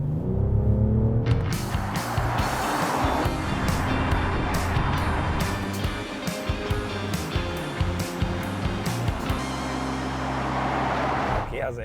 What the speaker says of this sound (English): Well, let's step on the gas a little.